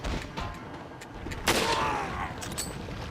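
Gunshots from headshots in Resident Evil 4 on the GameCube: a sharp, loud report with a ringing tail, set among fainter shots and game noise.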